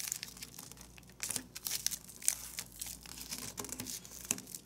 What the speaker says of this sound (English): And now let's fold this bottom edge to the crease mark.